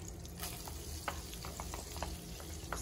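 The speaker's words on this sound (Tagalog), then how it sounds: "ilalagay na natin ang bawang at sibuyas. O, bawang muna, syempre." Garlic frying in melted butter, an even, close sizzle with light crackles and a few stirring taps running throughout.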